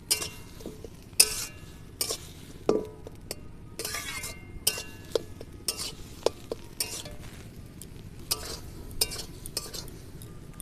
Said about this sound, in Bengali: একদম উনানের আঁচটা হালকা রেখে এইভাবে একটু ভালো করে নেড়ে নিতে হবে।